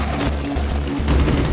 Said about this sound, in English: nearly doubled the damage output of Finka's 6P41 LMG.